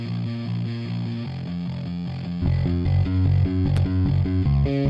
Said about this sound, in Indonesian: Nah, bassnya aja dia ada yang distorsi teman-teman nih